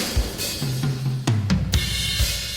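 A Premier Rock drum kit patch plays a short beat through an SSL-style bus compressor, with punchy kick and snare hits and a bright cymbal wash, alone with no voices.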